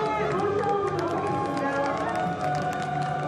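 A crowd cheers and claps steadily as race drivers walk onto the podium after the CJ Logistics Super Race season opener at Yongin, with a commentator's voice running over the noise.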